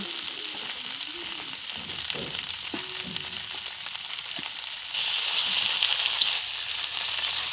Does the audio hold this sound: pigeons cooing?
no